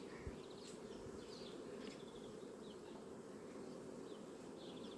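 Bees buzzing in and around a hive, a soft, constant drone with occasional individual insects zipping past, steady and fairly faint throughout.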